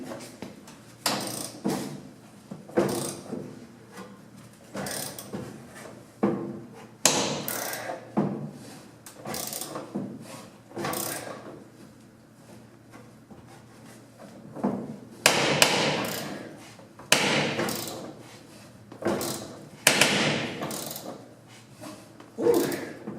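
Ratchet wrench working on rusty bolts of a 45-year-old C3 Corvette, irregular bursts of clicking and metallic clanks spaced out over time, moderately close and fairly quiet, with no talking.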